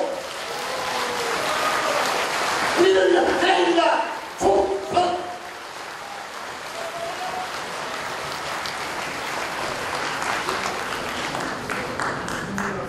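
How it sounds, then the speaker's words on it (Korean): Applause from a crowd at a patriotic political forum at the Olympic Parktel, a loud clapping wash under a speaker's amplified voice at first, then continuing steadily on its own at a lower level. "여러분 뜨거운 박수로 청해 주십시오"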